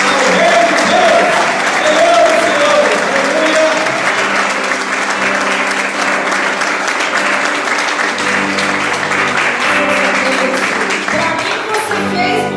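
A church congregation at the 3ª Igreja do Evangelho Quadrangular applauds loudly and continuously, a dense wash of clapping with music and voices running beneath it.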